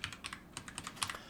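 Computer keyboard keys are pressed in a quick, irregular run of light clicks, about a dozen taps close by and fairly quiet, with no talking.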